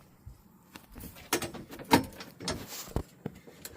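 Door of a Neis wagon being worked open and shut during a trail-stop service check, giving a string of sharp knocks, clunks and rattles with a louder thump near the middle, close and fairly quiet.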